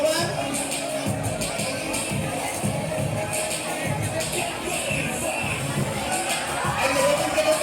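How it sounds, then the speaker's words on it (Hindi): Students at a Class XII school farewell in a hall cheer, shout and clap in a lively, continuous crowd din, with children's voices and general chatter mixed through the noise. "जोरदार तालियों से स्वागत कीजिए"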